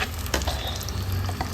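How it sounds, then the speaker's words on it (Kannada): Bitter lime paste with garlic fries slowly in a pan over a low flame, a steady, close sizzle with a few soft stirring scrapes and no talking. "ನಿಧಾನ ಉರಿಯಲ್ಲಿ ಚಂದ ಫ್ರೈ ಮಾಡ್ಕೊಳ್ಳೋಣ"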